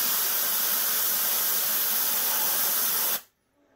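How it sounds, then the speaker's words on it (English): Airbrush spraying black paint over a rivet stencil gives a steady, loud, close airy hiss lasting about three seconds, then cutting off abruptly into near silence. "what I'm going to do is blast a bit of black actually on the stencil and let the overspray travel underneath"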